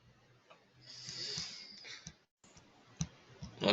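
A few faint, sparse computer mouse clicks over quiet background hiss while navigating payment method settings, with isolated sharp clicks near the end.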